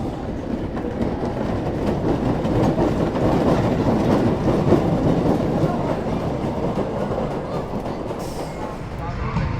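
Raven wooden roller coaster train at Holiday World rolling along its track, a steady loud rumble with rapid clattering wheels and rattling cars running continuously, with voices underneath.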